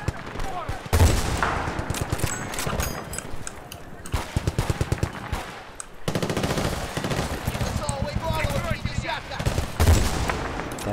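Rapid machine-gun bursts and fusillades of gunfire in a Battlefield 2 battle, loud and near, recurring across the whole stretch with brief lulls between volleys.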